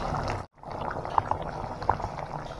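Water pours into a pot of Assamese-style desi chicken curry, a steady bubbling, splashing wash close by with a brief drop-out early on and a few sharp droplet plinks.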